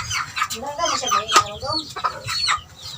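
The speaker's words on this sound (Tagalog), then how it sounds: "Itong manok na ito, binabae." Hens clucking in short, busy bursts, close by, with several birds chattering over one another throughout.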